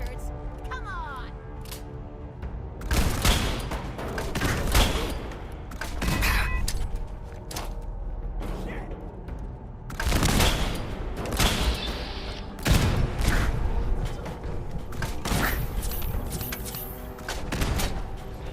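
Gunfire in the video game Fallout 4, with repeated loud bursts and booms in clusters over a steady game background, while people talk over the action.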